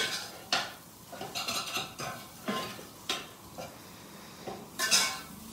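Meat being browned in a pan with flour and a little butter, with the sharp clinks and scrapes of a utensil against the pan at irregular intervals over a faint background.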